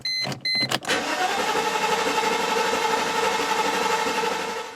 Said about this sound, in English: so I can turn the engine over and the car won't start